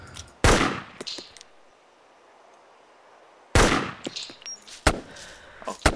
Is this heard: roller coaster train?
no